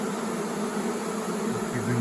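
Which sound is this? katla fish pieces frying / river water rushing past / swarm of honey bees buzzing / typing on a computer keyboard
swarm of honey bees buzzing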